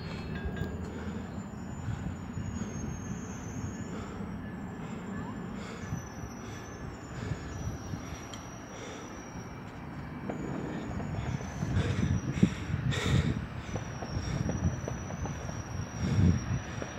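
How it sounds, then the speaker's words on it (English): GO commuter train passing through Scarborough GO Station heading east, a steady broad rumble of wheels and cars that builds louder toward the end, with faint high squeals over it and no talk. "This train is now going east."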